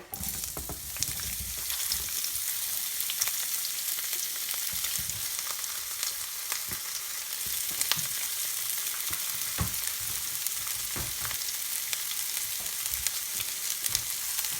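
Onion, bacon and hotdogs stir-frying together in a pan over low heat for spaghetti, a steady loud sizzle with scattered scraping clicks of stirring, with no voices.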